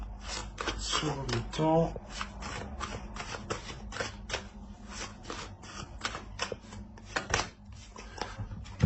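Tarot cards riffle and snap as they are shuffled and laid out, a quick flurry then a steady series of crisp card flicks up close, with someone speaking French softly over them.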